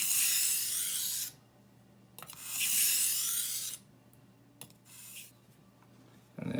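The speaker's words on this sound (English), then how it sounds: "I'm just going to continue the process of sharpening the knife." A knife is drawn across a whetstone in a few long, close rasping strokes separated by short pauses, with no talking.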